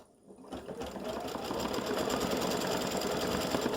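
A sewing machine stitching a St Patrick's Day triangle clover earring and pendant design starts after a brief quiet half second, then runs in a steady, rapid, close-up mechanical rhythm of continuous stitches with no talking.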